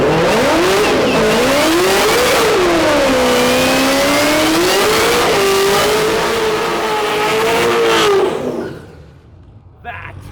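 A 1150HP supercharged Chevrolet Camaro SS engine revs loudly and up close, its pitch rising and falling in repeated waves before the roar drops away abruptly near the end.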